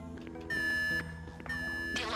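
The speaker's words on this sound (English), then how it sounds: "the alarm's been tripped" An electronic alarm sounds during a heist mission in the video game GTA V, two long steady high-pitched tones about half a second each with brief gaps between them, moderately loud over low background game sound.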